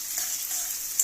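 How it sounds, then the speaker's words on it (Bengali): Chopped onions frying in mustard oil in a pan, a steady close sizzle with faint stirring scrapes, alone without talk. "সরষের তেল দিয়ে ভাজছি।"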